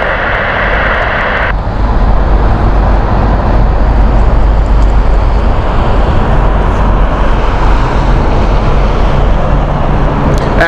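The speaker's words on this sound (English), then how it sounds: "we're going to see a huge queue of aircraft which were waiting now coming in" A landing aircraft at Heathrow Airport roars steadily and loudly from close by, a broad sustained engine rumble over ten seconds, joined by a brief higher whine near the start.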